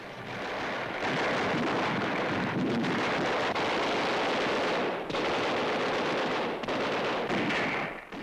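Gunfire and heavy crossfire during the 1945 Battle of Manila, a dense continuous roar of shots and blasts with wind-like rumble throughout, loud and unbroken, with no talk.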